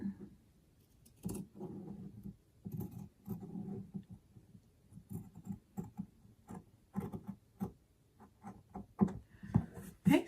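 Scissors cut fabric around a rounded corner for a composition notebook cover, making soft, irregular close snips and crisp clicks in a quiet room.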